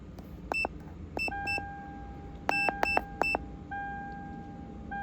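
Electronic warning beeps sound as the ignition is switched on in a Toyota Tundra, with several short tones in uneven clusters followed by a longer steady tone, clear and close in a quiet cab.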